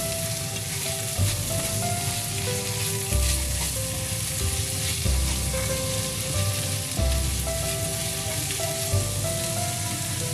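Chinese okra sautés in a hot pan with a continuous crackling sizzle, interrupted every couple of seconds by the low scrape and clatter of stirring, close and steady with no talking.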